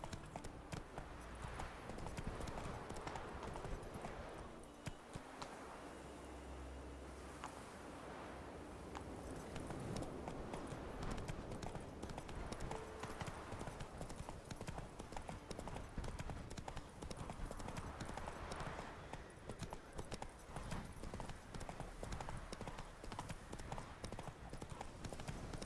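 Horse hooves gallop in the Witcher 3 video game, a fast and continuous clip-clop of hoofbeats that stays fairly quiet throughout, with faint game ambience beneath it.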